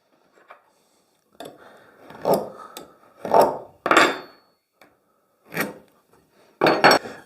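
A marking knife scores a line across timber in a hand woodworking setting: a handful of short, dry scraping strokes, close and distinct, with quiet gaps between them.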